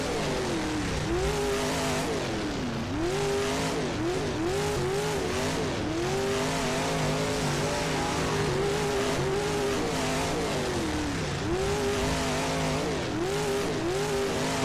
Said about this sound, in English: We're in the limiter at the end of the straight. We are only in first gear.